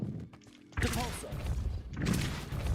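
Depulso force spell cast in Hogwarts Legacy, a heavy thud and crashing burst that cuts in after a quiet moment, followed by a sustained rumbling clatter and a second swell.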